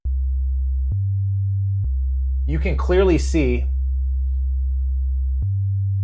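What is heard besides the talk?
synthesizer playing a sine wave bass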